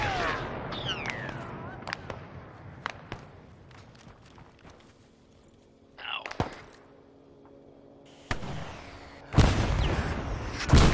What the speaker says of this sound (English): They're shooting from the second story.